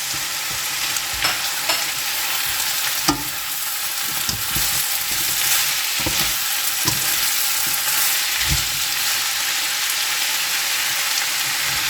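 Potatoes fry in a pan for arroz valenciana, giving a steady close sizzle broken by several louder stirring scrapes and clinks.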